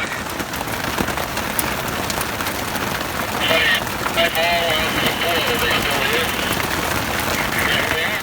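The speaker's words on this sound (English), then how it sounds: "that little hailstorm wasn't no joke" Dense, constant patter of hail drumming on a trailer roof, with a faint voice briefly audible partway through.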